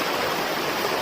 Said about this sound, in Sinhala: ඉතින් වටෙන්ම වතුර ගලනවා.